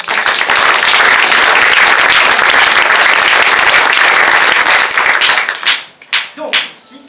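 Dense, loud audience applause at the close of a theatre performance of a Don Quixote play, sustained steady clapping for nearly six seconds before thinning into a few scattered claps.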